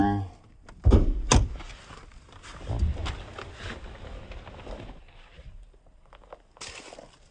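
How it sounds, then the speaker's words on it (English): Bonnet of a 2019 Ford Ranger 3.2 TDCi 200 Wildtrak automatic with 62k miles being released and lifted: a couple of sharp metallic clunks close together, then rustling and handling noise, with a voice talking. "let's pop the bonnet while we're here"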